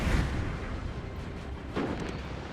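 Four-pounder cannons in Napoleon Total War fire as deep booms, one near the start and another shortly before the two-second mark, over a rumbling battlefield background.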